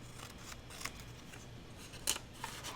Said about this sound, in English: I'm just going to cut this one that says memories.